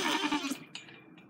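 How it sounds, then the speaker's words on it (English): A baby goat gives one short bleat on a small farm with about eight goats, close at first and loud, then fading off into faint rustling. "Is that the baby goat?"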